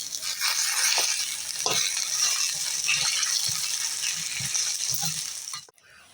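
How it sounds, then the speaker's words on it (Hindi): Taro root fries with onion in oil in a pan, giving a close, steady sizzle with occasional stirring knocks that cuts off abruptly near the end, with no talk. "दस मिनट तक हमने अरबी को इसमें भून लिया, प्याज में, ऑयल में।"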